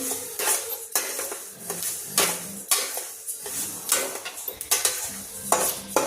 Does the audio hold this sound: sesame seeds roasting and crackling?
yes